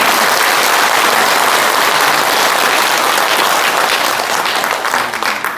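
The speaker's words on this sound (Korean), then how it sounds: "여러분 뜨거운 박수로 청하겠습니다" Audience at a book launch event on 155 years of Korea–US relations applauds warmly, a dense, loud and sustained roar of many clapping hands that holds steady before easing slightly at the end.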